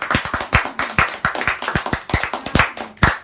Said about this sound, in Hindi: तो एक बार सब लोग जोरदार तालियां बजाते हैं सबके लिए